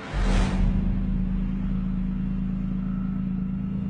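A Nissan car in an impromptu street race, heard as a loud, close engine rumble with an opening whoosh of acceleration that settles into a steady, heavy drone, with no voices.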